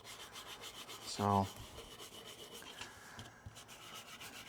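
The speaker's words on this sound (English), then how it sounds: "I've been taking my sanding stick and just kind of sanding down the whole thing" A 320-grit medium sanding stick rubs back and forth across a plastic model kit part, giving a short, close, raspy scrape that rises briefly and fades, with a word spoken nearby.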